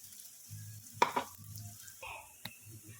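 Sabudana and crushed peanuts tipped into a frying pan with cooked potatoes, giving a soft sizzle and a couple of sharp clatters as they land, with quiet stirring.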